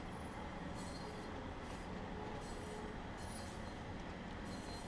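A diesel train in Train Sim World 3 runs along the Cornwall local line, giving a steady rumble with a continuous rolling wheel noise and a few faint squeals, fairly quiet and alone.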